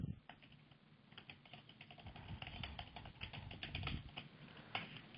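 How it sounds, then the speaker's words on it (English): Someone types a name and login on a computer keyboard in an office, a quiet, quick run of irregular key clicks. "type in their name, their login"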